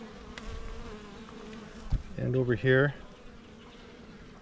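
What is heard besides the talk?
honey bees buzzing around a hive frame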